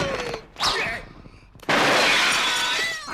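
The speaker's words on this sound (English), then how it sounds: "Yes Madam, where the sound effects sound like this." Exaggerated kung fu movie sound effects from Yes Madam: a loud crashing shatter bursts in near the start, then after a short lull a long, dense, bright smash-and-clatter roars on for over a second at full volume.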